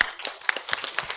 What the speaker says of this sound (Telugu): ఇక్కడ ప్రతి పేరెంట్కి మనం గట్టిగా చప్పట్లు కొట్టాలి